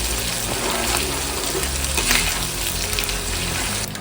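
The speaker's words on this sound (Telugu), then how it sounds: "మనం వేగనివ్వాలి ఎర్రగా రావాలండి అల్లం వెల్లుల్లి పేస్ట్" Ginger garlic paste fries in oil for a mutton pickle, producing a loud, dense, continuous sizzle and bubbling close up, with no speech.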